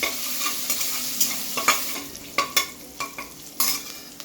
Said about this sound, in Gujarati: એક 2 મિનિટ આપણે લીલા મરચાં અને આદુને સાતળી લેવાના।